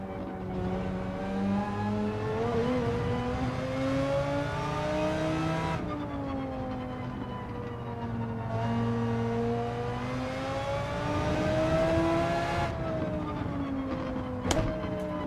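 Mercedes AMG race car in Gran Turismo 7, its engine droning close and loud as the revs climb and fall through several gear changes, with a brief sharp click near the end.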